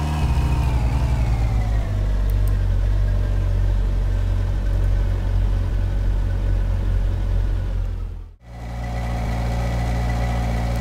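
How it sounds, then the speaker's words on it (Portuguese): Car engine droning steadily while driving in My Summer Car, the heavy, loaded car struggling to reach 120 km/h; a loud continuous rumble with a brief dropout near the end before resuming. "O carro tá muito pesado, ele não tá passando 120 por hora."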